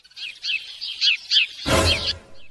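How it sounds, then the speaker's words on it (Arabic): Several small birds chirp and tweet in short bursts at dawn, fairly close, followed by a louder rustling or clattering burst. "بدات العصافير تزقزق يعني خلاص السهرة"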